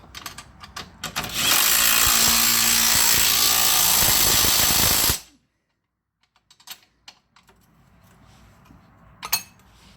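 A ratchet with an 18mm socket turns the front control arm bolts on a Dodge Grand Caravan, clicking loudly and rapidly for about four seconds, then stops, leaving a quiet pause and a few scattered clicks and knocks.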